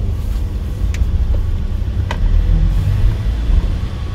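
A car engine rumbles and revs gently as the accelerator is pressed during a manual-transmission driving lesson on a snowy day, a low steady drone inside the cabin with faint clicks.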